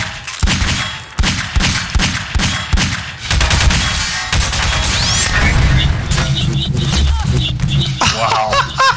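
AR2 pulse rifle fire in Half-Life 2 Deathmatch, a loud rapid burst of repeated shots over the first few seconds, followed by dense crackling combat noise and game effects.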